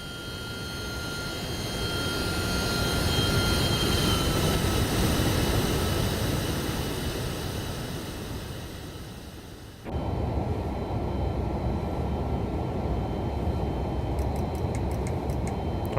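Jet engines of an MD-11 airliner roar in a steady, fairly loud flyby in the RotateSim flight simulator, swelling then thinning before cutting to a quieter sustained drone with faint ticking.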